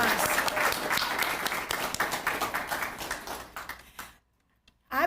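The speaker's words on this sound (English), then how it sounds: "Please give him a warm round of applause." An audience gives warm applause for a committee member at a Thanksgiving event, steady clapping that thins into scattered claps and stops, then a brief burst of sound at the end.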